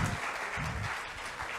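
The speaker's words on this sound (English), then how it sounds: "Please give him a round of applause." Applause from an event audience for a speaker at a rural youth agribusiness forum, a steady patter of clapping filling the room for a second and a half with no voices over it.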